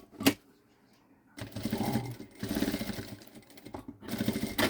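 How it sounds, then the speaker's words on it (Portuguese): A sewing machine runs in bursts, stitching a seam on a handmade bag at the 8 cm mark, close and steady with short pauses between runs. "Vou passar uma costura lá onde deu a marcação de 8 centímetros agora"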